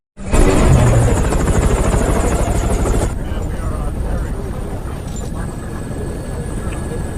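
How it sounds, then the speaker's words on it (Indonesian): A helicopter roars loudly, with a dense rotor thrum and a high whine that drops away partway through, leaving a steadier, duller engine drone. "Bruce dan Betty ditangkap, diborgol lalu dibawa secara langsung oleh General Ross menggunakan helikopter."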